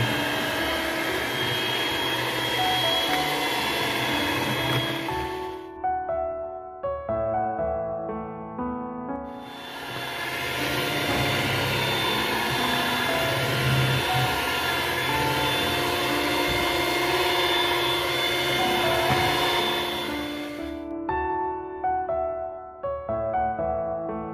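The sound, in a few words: electric mixer beating eggs at highest speed for chocolate cake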